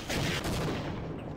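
A rocket launcher fires at an enemy in the Half-Life video game, one loud burst of blast and rushing noise that quickly fades out.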